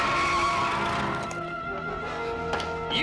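A car rushes close and skids, a loud tire screech sliding through a few seconds before easing off.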